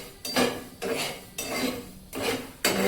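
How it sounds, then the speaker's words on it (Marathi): Coriander seeds dry-roast in a pan for Udupi sambar masala, stirred in repeated rasping sweeps that rattle the seeds against the metal, about five strokes at an even pace, close and clear. "धने चांगले मस्त भाजून घेऊया"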